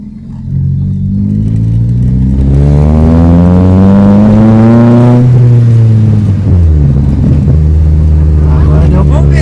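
A Chevrolet Astra with a straight-pipe exhaust revs hard and close. The engine pitch climbs steadily, then drops off after a gear change and settles into a deep rumble, with people talking faintly under it.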